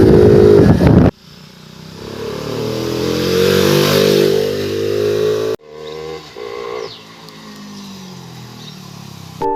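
Hero Splendor motorcycle fitted with an aftermarket air filter, revving hard in loud, close bursts; the engine note climbs and falls through several throttle blips separated by abrupt cuts, with no talking.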